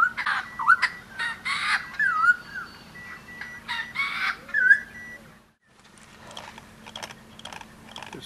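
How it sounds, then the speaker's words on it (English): Birds call loudly and repeatedly in the morning at Fort Smith, a busy chorus of overlapping squawks and crowing-like cries that breaks off briefly before softer calls resume. "hear them birds, drive you mad"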